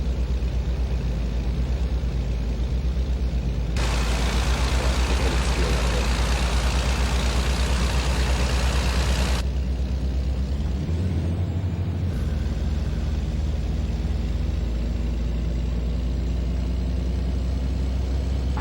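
A Kenworth W900 truck engine in American Truck Simulator drones steadily, with a burst of broadband hiss partway through and a low shift in pitch as the gears drop.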